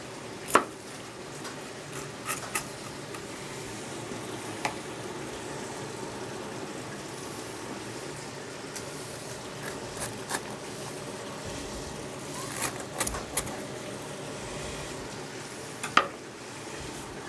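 A knife cuts through a crispy Detroit-style pepperoni, mushroom and onion pizza on a griddle, sparse sharp crunches and clicks spread over a low steady sizzle, close and quiet, with no one speaking.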